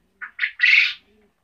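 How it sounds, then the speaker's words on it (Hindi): Three quick, close pigeon calls in a row, the last one longer and drawn out, loud against silence. "यह कबूतर है"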